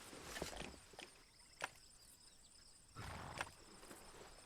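A video game horse makes soft snorting and clip-clop sounds, with brief louder bursts of hooves or movement at a low, quiet level and no talk.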